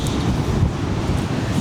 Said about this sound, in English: it's very, very windy on this side.